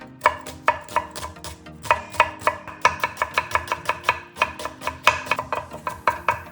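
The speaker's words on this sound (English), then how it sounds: "Finely chop half an onion." Knife finely chopping half an onion on a cutting board, rapid rhythmic taps in quick bursts with brief pauses, loud and close, no voices.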